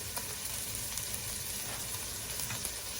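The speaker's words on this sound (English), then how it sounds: "so you can hear the sizzle" Pancetta frying in a pan for a ground beef soup, a steady, fine crackling sizzle with occasional louder pops, close and continuous with no talking.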